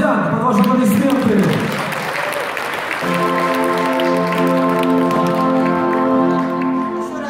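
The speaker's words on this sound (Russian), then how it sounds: "Продолжим аплодисменты." A few seconds of dense applause from a crowd at an awards ceremony, which then gives way to sustained music tones.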